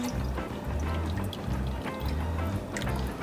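Soy sauce (shoyu) pouring steadily from a bottle, a continuous liquid trickle with a low gurgling pulse, close and fairly loud, alone without talk.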